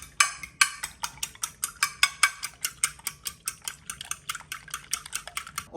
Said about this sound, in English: And now the eggs I gotta scramble a little bit.